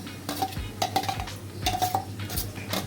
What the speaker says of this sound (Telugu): మాడకుండా బాగా తిప్పాలి కరెక్ట్గా